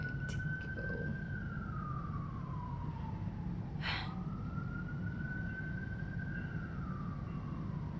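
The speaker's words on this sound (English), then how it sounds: "I'm actually gonna wait for the siren to go." An emergency siren wails outside a New York City apartment, its rising and falling tone sweeping slowly across the clip, muffled and moderately distant over a steady low rumble of traffic.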